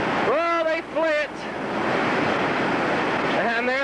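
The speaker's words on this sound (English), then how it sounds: "All this water comes down and smashes right into that rock wall." Whitewater rapid on the Gauley River crashing against a rock wall, a loud continuous roar of surf with bursts of shouting voices at the start and end.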